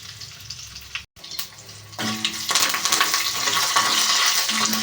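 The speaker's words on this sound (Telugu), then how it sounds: "బాగా ఫ్రై అయ్యే వరకు ఫ్రై చేసుకోవాలి" Quiet sizzle, a brief pause, then louder, denser frying as mustard seeds and other tempering spices crackle in oil, holding steady and close without speech.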